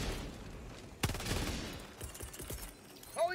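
Gunfire in Helldivers 2, a sudden burst of rapid automatic shots fading into a few scattered reports, fairly faint beneath game ambience.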